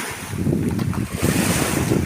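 Sea waves washing onto a beach in Italy, a steady loud rush of surf mixed with wind buffeting the microphone, with no talking.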